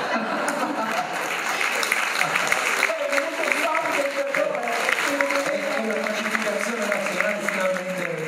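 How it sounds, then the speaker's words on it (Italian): Audience applause at the Acqui Storia history prize ceremony, steady loud clapping from a hall crowd with voices talking over it and a few chuckles mixed in. "Un bel applauso"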